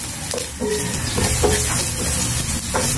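Ginger, garlic and onion sizzling and sautéing in a hot pan for ginataang labong, a steady hiss with intermittent stirring scrapes, close and alone without talk.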